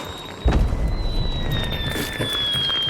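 A bomb goes off in the video game Hunt: Showdown with a sudden, booming burst that fades into a rumbling, crackling tail lasting a few seconds.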